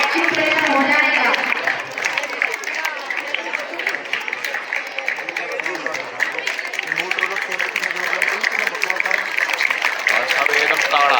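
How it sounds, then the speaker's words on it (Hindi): A school annual function audience claps steadily and densely for the arriving chief guest, with a voice speaking over the applause throughout. "आप तालियां बार बार बजाते ही रहिए"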